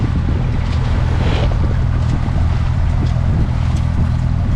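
A sailboat motors under engine in the Balearics with wind on the sails, a loud, steady low rumble and rushing wind noise throughout, with no talk.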